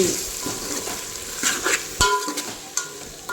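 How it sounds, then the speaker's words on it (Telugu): A soya chunk pulao mixture fries in a pan with ginger garlic paste and whole garam masala, crackling as it is stirred, with sharp spoon scrapes and taps against the pan; close, no talking. "ఇవి కూడా వేసుకొని మొత్తం అంతా కలిపేసి మంచిగా కలుపుకోవాలి"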